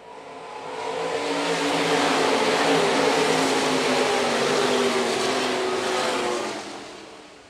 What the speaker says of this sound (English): And back underway out of corner number four for your stock cars.